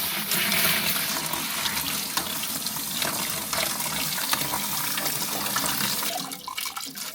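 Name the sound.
water running at DIY garden wash station while washing cabbage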